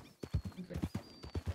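Horse hooves clip-clop on a street in a Red Dead-style roleplay game, a quick uneven run of about a dozen near, crisp hoof strikes with no talk over them.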